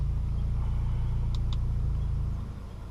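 A Volkswagen Polo engine idles as a steady close low rumble throughout, with two short bright clicks midway and the level dropping slightly near the end.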